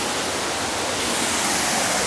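The first tier of a nine-tier waterfall roars in a steady, loud, broadband rush of falling water, unbroken and with no voices.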